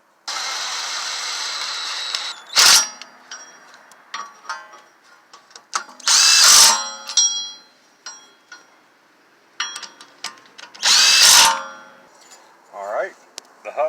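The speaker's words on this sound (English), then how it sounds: "put these 4 14mm bolts back in place and get the hub mounted back up" Impact tool on 14mm rear hub bolts of a 2014-19 Kia Soul during a wheel speed sensor repair: three loud, short bursts of driving and rattling, separated by quieter metallic clinks and handling noise.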